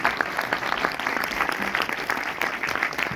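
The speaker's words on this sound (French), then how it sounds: "Donc je vous demande un peu d'applaudissements." Audience applause for film director Kilian Riedhof at a cinema preview screening with Q&A, steady dense clapping from a crowd, moderately loud and continuous throughout.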